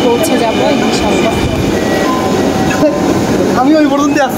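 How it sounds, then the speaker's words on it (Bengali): A passenger train pulls into a station with a loud, continuous rumble and rolling clatter, a few squealing tones rising near the end and voices in the background. "এই তো আমাদের ট্রেন চলে আসছে।"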